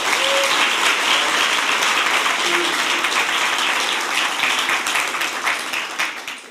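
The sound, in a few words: audience applause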